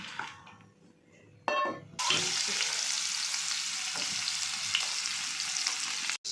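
Chopped onion drops into hot oil with crackling cumin seeds for a kurdai bhaji, bursting into a loud, steady sizzle after a quieter opening and continuing unbroken to the end.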